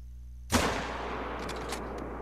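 A single rifle shot is fired at a roe deer in Hunter: Call of the Wild, a sharp loud crack that decays into a long rolling echo over a faint steady hum.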